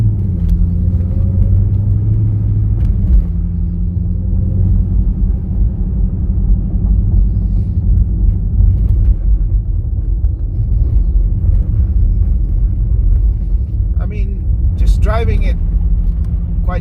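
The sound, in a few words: Dodge Hellcat wheel spin in slush on ice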